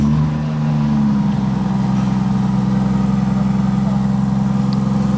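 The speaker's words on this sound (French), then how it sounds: "Assez discret le démarrage de la Vanquish volante" An Aston Martin Vanquish Volante with its exhaust valves open settles into a steady, rumbling idle just after starting, loud and close, with a deep, even drone that holds without pause.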